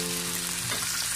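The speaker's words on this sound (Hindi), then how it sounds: "अब मैं चिकन को प्याज के साथ फ्राई करूँगा।" Chicken frying with onions for pulao, a dense, steady sizzle filling the brief moment at close range with no voices.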